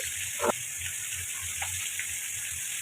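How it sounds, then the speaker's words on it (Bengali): Fish frying in hot oil gives a steady, moderate sizzle and hiss, with a couple of brief splashy crackles near the start and no voices. "মাছটা লাল লাল করে ভাজবো"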